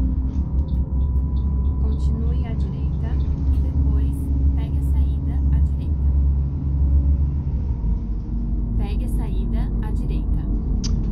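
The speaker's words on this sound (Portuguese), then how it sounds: "Com esse somzão grosso, só pode ser Mercedes, né?" Deep, heavy rumble of a Mercedes-Benz Paradiso Campione Invictus 1200 6x2 bus engine, 14 metres long, droning steadily and close throughout with faint higher noises over it.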